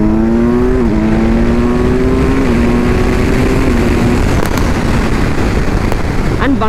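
A Kawasaki Ninja 1000SX motorcycle being ridden at speed, its steady engine drone shifting in pitch beneath loud, constant wind roar.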